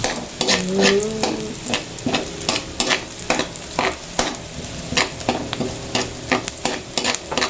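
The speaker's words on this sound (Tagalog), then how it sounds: "una ay bawang. Kumuna at masyadong malakas na ito yun. Sobrang init ng mantika kaya baka masunog" Garlic fries in very hot cooking oil, a loud, constant sizzle close by with repeated clinks and scrapes of a utensil stirring in the pan, and no talking.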